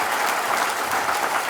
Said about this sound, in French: On peut l'applaudir, Jean, pour ce tour de projet